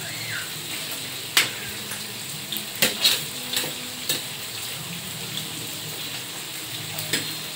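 Milkfish (bangus) frying in a pan gives a soft steady sizzle, punctuated by several sharp clinks and scrapes of a utensil against the pan.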